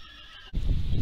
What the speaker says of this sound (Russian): Мы увидели здесь лошадок.